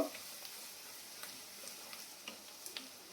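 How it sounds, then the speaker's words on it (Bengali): Soft, continuous sizzling of onions frying in oil left from frying potatoes, faint and steady with a few small pops. "আলু ভাজার তেলের মধ্যে আমি পেঁয়াজটা একটু হালকা করে লাল লাল করে ভেজে নেব।"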